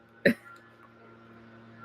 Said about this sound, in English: that was a pretty good burp